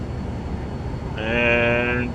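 Engine start-up of a Vision Jet in Microsoft Flight Simulator: a steady low rumble, then at about a second a rising whine with layered tonal harmonics swells and holds, growing louder toward the end.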